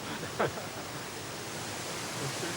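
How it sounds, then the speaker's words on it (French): Steady broadband roar of the waterfall at the foot of the Gavarnie cascade in the Pyrenees, a continuous wash of falling water close by, with a brief faint voice early on. "on ne peut pas ne pas venir voir le pied de la cascade"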